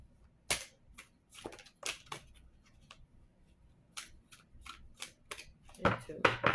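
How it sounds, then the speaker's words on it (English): Tarot cards are shuffled in quiet bursts of papery riffling and sharp snaps, irregular and close, with a quick flurry of riffles near the end. "We'll do two more shuffles."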